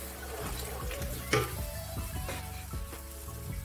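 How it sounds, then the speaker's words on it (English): Stock is stirred into frying Nigerian egusi soup, giving a soft sizzle and bubbling with a few spoon scrapes and one sharper clink against the pot, close and moderately quiet. "So I'll add in my stock and stir."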